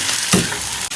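Beef offal stir-fried in a wok with scallion, ginger, garlic and dried chilies gives a loud, dense sizzle, with a brief scraping stir near the start and a quick dip just before the end.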